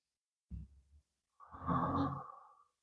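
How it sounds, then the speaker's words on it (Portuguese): Deep breathing during a relaxation exercise: a short, low inhale followed after a pause by a longer, louder, airy exhale, close to the mic and alone. "E podemos desenvolvê-la através da respiração profunda."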